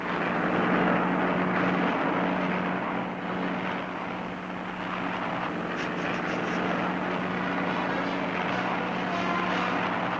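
A propeller airplane in flight in a 1960 animated Tintin film drones with a steady engine hum and a constant low tone, holding an even level the whole time and heard alone.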